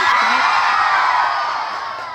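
A crowd whoops and shouts together in one loud, sustained burst of cheering that slowly fades, at a Shivaratri festival fair.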